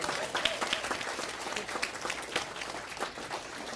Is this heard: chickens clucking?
no